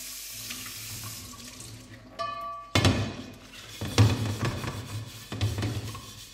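Rusty iron pan rinsed under a running kitchen tap, steady water flow splashing with a few hollow knocks and thumps of the pan against the sink.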